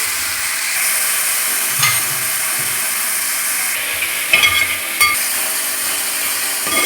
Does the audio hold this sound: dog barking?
no